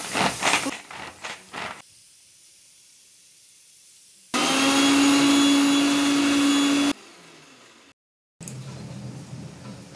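A household mixer grinder grinds cumin, garlic, ginger and garam masala. Short bursts of clatter come first, then a loud steady whine runs for a few seconds, followed by quieter whirring after a brief pause.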